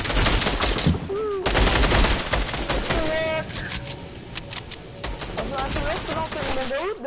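Rapid bursts of video game gunfire in a Fortnite Creative 2v2 match, sharp repeated shots in quick volleys with interface beeps and tones, while players talk over the action.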